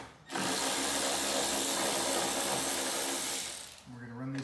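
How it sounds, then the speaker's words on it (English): Power ratchet spinning an 8mm socket to remove brake light bolts on an 80 Series tailgate, a loud continuous whirring run of several seconds ending in a brief winding-down hum. "we're going to use an 8mm socket."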